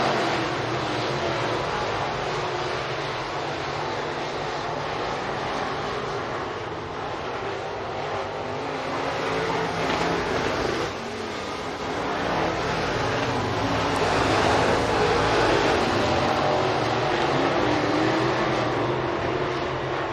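Onboard a dirt track race car during heat race laps at Boone Speedway in Iowa, the engine roars loud and continuous for the whole stretch, with rising and falling revs through the turns and a steady wash of noise.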